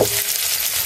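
Onion, garlic and chili drop into hot oil in a village kitchen, giving a loud, steady crackling sizzle close to the mic with no talking.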